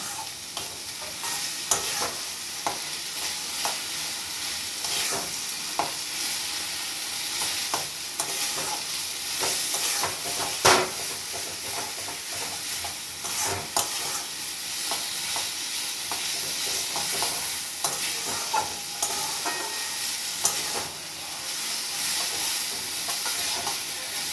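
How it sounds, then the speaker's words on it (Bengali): Spice masala with turmeric and salt being stir-fried on high heat, a continuous loud sizzle broken by irregular scraping and stirring strokes, with one sharper knock near the middle. "এবার বেশি আঁচে মশলাটা কষতে থাকবো।"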